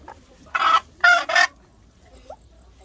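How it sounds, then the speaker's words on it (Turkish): A bird caught by hand in Nyala, Sudan gives three loud, harsh squawking calls close by, one short burst followed by a quick double, then quiet. "Değişik bir kuş."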